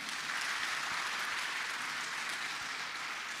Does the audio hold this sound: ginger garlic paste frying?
no